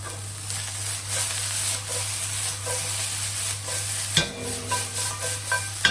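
Gravy sizzles steadily in a frying pan with occasional soft stirring scrapes, close and continuous, with a brief clatter near the end.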